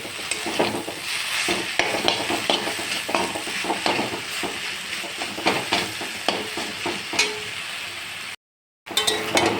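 Continuous sizzling of food frying in a pan, with scraping stir strokes and occasional clinks, close up; a brief silent gap near the end.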